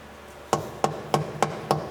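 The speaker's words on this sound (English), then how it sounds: "now I'm taking a soft blow hammer and kind of driving this thing out" A soft blow hammer strikes a rod, driving it out of a LeBlond lathe quick-change gearbox: five evenly spaced, close, dull metallic knocks roughly every third of a second, each ringing briefly, with no talk.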